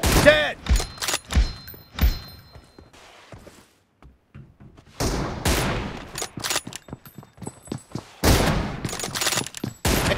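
Bursts of gunfire from a BGMI PUBG match, several loud volleys and single shots with thuds spread across the clip, broken by a short quiet gap, with shouted voices mixed in.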